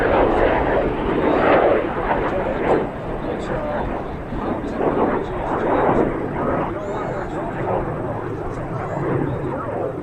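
An F-100 Super Sabre jet roars loudly and steadily past at an air show, with a voice talking over the noise.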